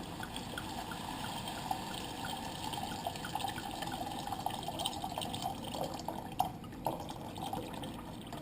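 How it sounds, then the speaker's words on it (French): White wine is poured into a pan of shallots sweated in butter, giving a steady liquid gurgle and faint sizzle at a moderate level, with a few brief clinks near the end and no speech. "une fois que mes échalotes ont sué dans le beurre, gentiment, je vais rajouter le vin blanc."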